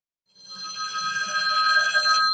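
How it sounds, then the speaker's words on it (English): A telephone rings with a bright, sustained electronic bell tone that starts abruptly and holds steady and loud at close range, with no one talking over it. "I had to answer the phone"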